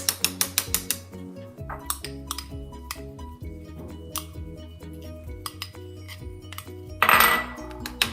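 Double-dipped hummus is spooned into a glass petri dish: a quick run of sharp clinks up front, then scattered light taps and scrapes, and a louder rustling scrape near the end, with no talking.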